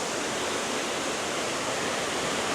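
Boti waterfall in Ghana pours in a steady, dense roar of rushing water, close and constant, with no voices over it.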